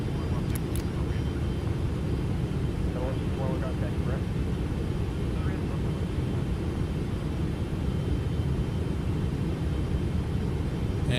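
Steady Boeing 777 jet engine roar on approach in X-Plane 12, a broad continuous rumble with faint higher whine, under brief indistinct cockpit talk.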